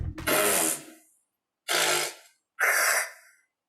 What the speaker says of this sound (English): He makes a couple of weird fart sounds